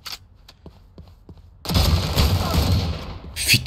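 Rapid automatic gunfire from a weapon in Valorant bursts in loud and dense after a quieter stretch of faint scattered clicks, continuing as a sustained fusillade to the end.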